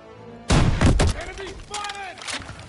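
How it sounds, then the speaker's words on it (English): A launcher blasting through a weak wall in Call of Duty WW2: a sharp, loud close-range explosion followed by a second boom and a rumbling, crumbling debris tail, with a brief voice amid the aftermath. "Daniels, use your launcher to clear a path."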